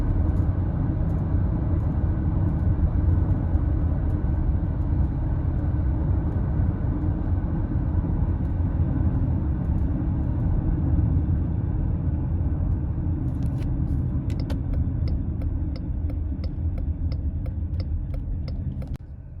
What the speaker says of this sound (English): We just did a few miles of driving